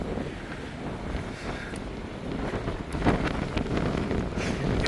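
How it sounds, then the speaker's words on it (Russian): Strong wind batters the microphone in a broad, roaring rush at night by the waterfront in Lusail, Doha, with louder gusts near the end. "Ветер просто сносит с ног."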